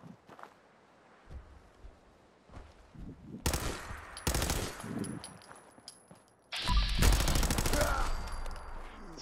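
Gunfire in Fallout 4 VR, a loud burst of rapid shots followed by a second heavy volley, with quieter thuds and footsteps in between and no talk.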